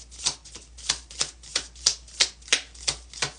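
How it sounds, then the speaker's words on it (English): A deck of tarot cards being shuffled: about ten soft, evenly spaced riffling taps, close and quiet, with no talking. "I'll shuffle one more time with this deck"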